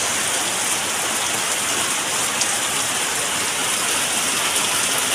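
Heavy rain from Typhoon Bebinca pours down on Burias Island, a dense, constant hiss of drops hitting surfaces, loud and unbroken throughout with no voices.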